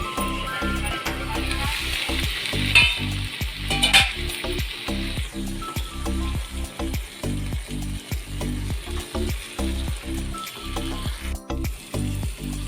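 Onion and pureed tomato masala fries in a pan for a bhindi (okra) fry, a steady close sizzle broken by regular scraping strokes of a spoon stirring.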